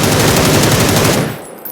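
Sustained automatic gunfire in PUBG rattles in one loud, rapid burst during recoil control practice, then cuts off.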